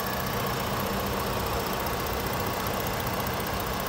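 A 2013 Ford Taurus Police Interceptor with a 3.5 engine idles steadily up close, giving an even, smooth, unbroken hum with a dense hiss and no speech.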